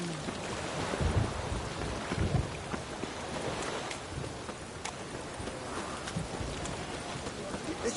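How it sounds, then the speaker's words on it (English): Steady rain pours in The Witcher 3: Wild Hunt, a continuous hiss of falling drops with low rumbling thunder swelling underneath, heard faintly beneath occasional muffled ambient noise. "Rain again."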